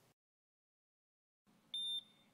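Protege ZM single-gas monitor (oxygen, H2S, CO) in gas alarm during calibration, emitting loud high-pitched electronic beeps in a short pulsing burst after near silence.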